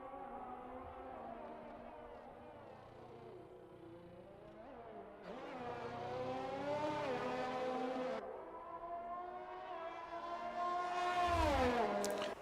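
Formula 1 cars from F1 2021 race around a track, their high-pitched engines whining and shifting through gears in layered harmonic sweeps, one car rising louder and closer with a burst of revs near the end.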